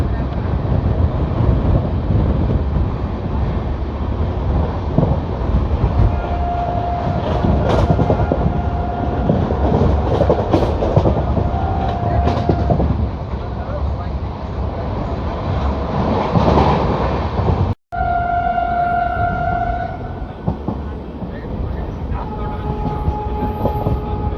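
An oncoming train rushes past at high speed, heard from aboard an LHB express coach as a loud, sustained roar with wind buffeting, followed by a brief cut and fading rail noise with faint tonal whines.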